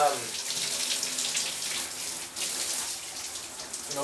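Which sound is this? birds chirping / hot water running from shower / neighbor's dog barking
hot water running from shower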